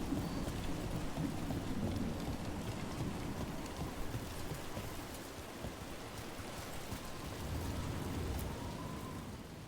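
Heavy rain pours steadily in Dragon Age: The Veilguard, a dense, continuous wash with a low rumble of thunder beneath, with no voices.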